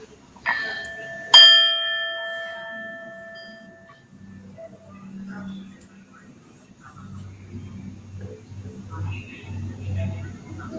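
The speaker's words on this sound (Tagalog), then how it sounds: "just hit my bell" A small bell is struck twice in quick succession, each bright ringing tone decaying over a second or two. A quiet, low murmur follows in the room.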